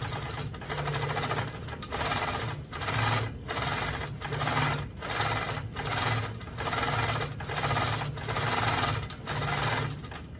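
A Handi Quilter longarm quilting machine double stitches over a seam on a tote bag, running in steady bursts with short regular pauses, loud and close with a low motor hum throughout.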